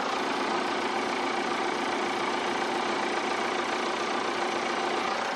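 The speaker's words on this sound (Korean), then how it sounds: "바로 엔진 소리 한번 들려드릴게요." A Jeep Cherokee engine idles steadily, a continuous even rumble with no change in pitch and nobody speaking.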